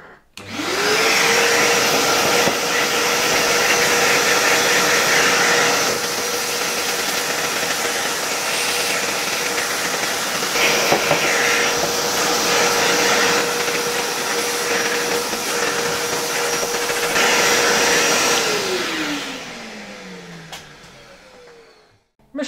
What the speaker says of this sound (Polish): Zaraz wezmę odkurzacz i troszeczkę lepiej go wyczyszczę